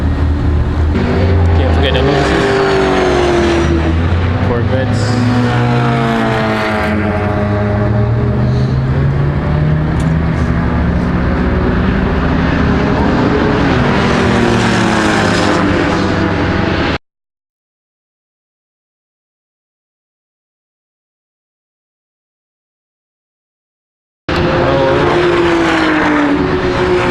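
Race cars including Porsches, Corvettes, Miatas and a Ford GT lap a race track, engines roaring loudly and continuously with rising and falling pitch as they pass, broken by a stretch of silence before the engine noise resumes.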